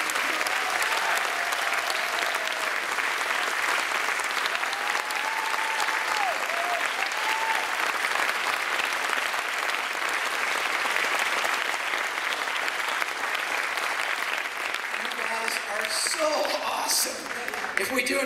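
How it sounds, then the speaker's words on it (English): Sustained audience applause at a Disney-themed concert, steady and dense for the whole span, with faint voices and a few whoops rising near the end. "Would you give a round of applause to everyone responsible for the Disney magic"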